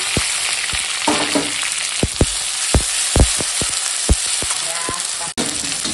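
Tomato and ginger garlic paste fry loudly in a pan, a constant close sizzle punctuated by sharp knocks and scrapes of a spoon stirring every half second or so.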